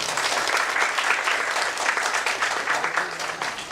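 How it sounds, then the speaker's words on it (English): Steady applause from a lecture audience at IIT Bombay, many hands clapping together at an even level throughout, fairly close and full. "So you should give a clap to her."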